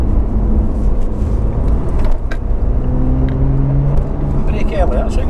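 A Porsche 911 drives on a track, its engine a steady, close drone with a brief dip in revs midway, while a voice talks over it throughout.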